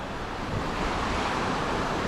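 Ocean waves wash onto a beach at Koh Rong Sanloem in Cambodia, giving a continuous broadband surf roar mixed with wind noise, steady and fairly loud with no talk.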